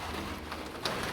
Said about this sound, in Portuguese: Agora tá começando a chover bem grosso aqui, olha.